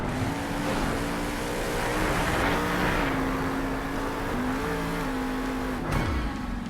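Grave Digger monster truck engine revving hard and steadily through donuts at a Monster Jam freestyle event, a loud sustained roar with shifting pitch, then a sharper surge near the end.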